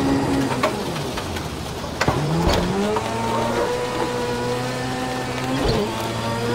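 A rallycross car in Project Cars 2 slides sideways, its engine revs sweeping up and down with brief tire squeals and knocks, steady at moderate level.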